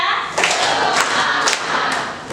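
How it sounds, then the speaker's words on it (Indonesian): A class of seventh-grade students does a patterned clap in a classroom, with a handful of loud, sharp group claps spaced a fraction of a second apart over a hushed room. "Tepuk tiga."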